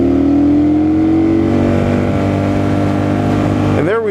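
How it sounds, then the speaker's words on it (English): A 2008 Kawasaki Vulcan 900C V-twin on its stock tune is revved hard near the listener, held loud and steady at top RPM, then drops off sharply at the end. "I'm going to rev this bike out."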